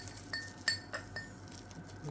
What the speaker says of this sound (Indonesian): Itu Gelas gelasnya Pokemon.